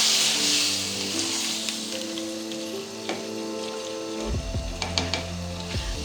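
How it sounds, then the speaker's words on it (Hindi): Diced potatoes and capsicum sizzle and fry in a pan for an Indian aloo shimla mirch sabzi, with a continuous crackling hiss, some stirring clatter and a scrape near the end. "आलू ऐड करने के बाद इसे फिर थोड़ी देर के लिए भूनेंगे।"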